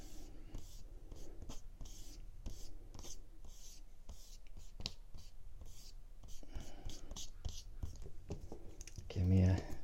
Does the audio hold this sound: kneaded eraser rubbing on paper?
yes